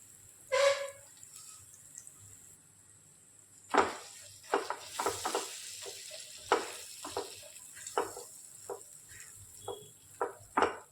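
Finely chopped onion frying in a little oil in a kadhai still holding browned chicken, with soft sizzling and repeated scraping stirs in bursts throughout, fairly close.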